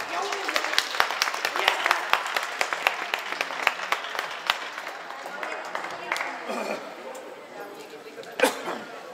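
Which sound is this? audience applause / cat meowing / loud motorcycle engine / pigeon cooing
audience applause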